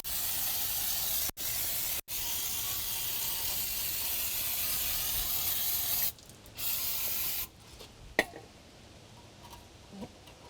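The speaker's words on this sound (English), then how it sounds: "First thing I'll do is hit it all with the degreaser." Brake cleaner degreaser sprayed onto a grimy 2004 Jeep parking brake assembly, a loud continuous aerosol hiss in several long bursts with brief gaps, ending in quieter scattered clicks and handling noises.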